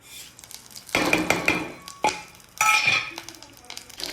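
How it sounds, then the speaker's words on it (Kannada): Garlic, mustard seeds and curry leaves frying in about three spoons of oil for a cluster bean curry, with bursts of crackling and spattering, clinks of a spoon against the pan, and quieter gaps between stirs. "ಇದನ್ನು ಒಂದು 2 ನಿಮಿಷ ಇಂಚನೆ ಫ್ರೈ ಮಾಡ್ಲೆ"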